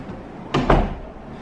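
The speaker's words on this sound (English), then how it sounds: "Go ahead and close that behind." A hotel room's main door swings shut with two quick thuds close by, a brief latch-and-close sound in a quiet room.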